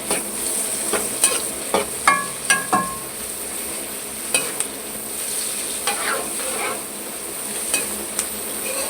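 Tomatoes are tossed into a hot pan for chicken jalfrezi, with a steady sizzle carrying a series of sharp metallic spatula clanks and scrapes, loud and near, with no talking.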